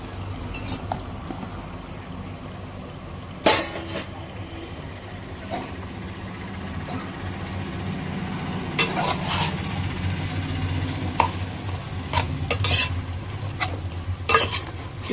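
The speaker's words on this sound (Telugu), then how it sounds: "ఇలా మగ్గిన తర్వాత ఇందులో శుభ్రం చేసి కోసుకొని పెట్టుకున్న మష్రూమ్ని యాడ్ చేసుకుందాం" Mushrooms go into a simmering drumstick curry and get stirred, with a steady low bubbling and sizzle broken by several sharp clinks and scrapes of a utensil against the pan. No talking.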